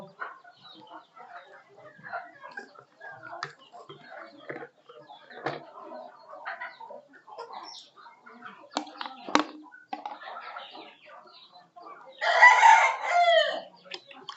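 Chickens drinking vaccine water on a poultry farm: scattered soft clucks and small rustles against a quiet background, then a loud nearby crow near the end, with some talk in between.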